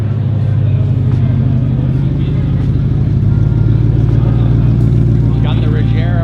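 A Koenigsegg Regera's engine runs steadily with a deep, continuous low rumble that holds at a constant level throughout, while people talk in the background.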